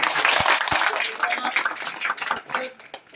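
Crowd applause at a party founding anniversary rally, a dense burst of many hands clapping together that gradually thins out over a few seconds.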